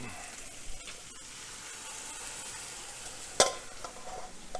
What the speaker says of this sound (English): go ahead and add the gravy to it